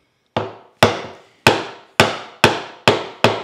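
A chisel is struck repeatedly while chopping a mortise in a wooden block, seven sharp woody mallet knocks at a steady, slightly quickening pace, each one decaying quickly, close and alone.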